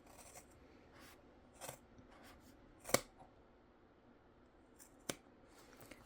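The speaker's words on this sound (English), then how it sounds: "I do that initial cut, and then I go in with my scissors." Sharp scissors trim fabric close to the stitching on a sewn bag, giving a few faint, sparse snips and light scraping clicks in an otherwise quiet room.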